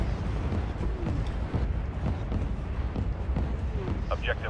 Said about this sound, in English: Artillery fire incoming.